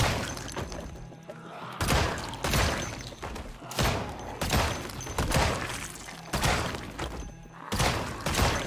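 Rapid Glock pistol gunshots fired at close quarters in the zombie survival game Project Zomboid, a steady run of sharp loud cracks about every second with short echoing tails.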